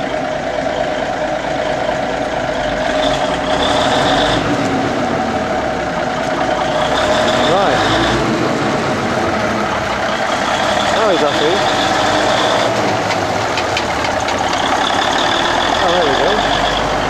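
A vintage truck with a 12-litre Cummins 220 diesel engine on its first start, running with a loud, continuous rumbling drone close by and slight rises and falls in pitch, with voices talking over it.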